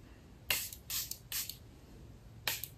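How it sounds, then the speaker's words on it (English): Makeup setting spray is pumped onto a face, with four short hissing spritzes, three in quick succession and a fourth after a pause, quiet and close. "if you spray your face with like your setting spray or finishing spray or something, your makeup will last longer"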